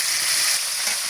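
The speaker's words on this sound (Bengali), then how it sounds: "তেলটা গরম হওয়ার পরে আমরা মাংসগুলো ভাজার জন্য ছেড়ে দিব।" Pieces of meat sizzle in a pan of heated oil while a beef curry is being cooked, a continuous close hissing crackle that stays even from start to finish with no voices.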